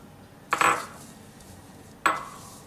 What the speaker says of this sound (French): tous les ingrédients secs en fait, le sucre glace et la poudre d'amande. Donc vous mélangez bien ça.